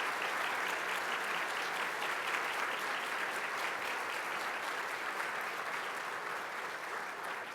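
An audience applauds the senior staff of the Houston Airport at a State of the Airports event, sustained dense clapping from a large room that holds steady throughout and eases only slightly at the end.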